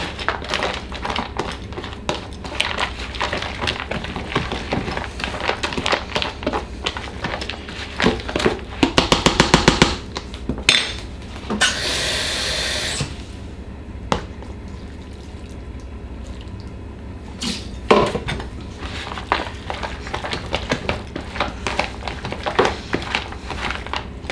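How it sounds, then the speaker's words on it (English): A utensil stirs a wet, soupy mixture in a bowl, making repeated squelching, sloshing and scraping sounds. A loud, rapid clattering burst comes midway, followed by a quieter stretch before the stirring resumes. "Give it a nice little stir."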